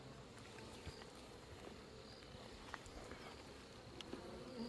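Honeybees buzz steadily around a hive feeder, making a faint, continuous drone with occasional brief ticks and no voices.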